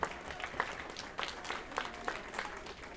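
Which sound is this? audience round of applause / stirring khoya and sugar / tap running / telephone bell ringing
audience round of applause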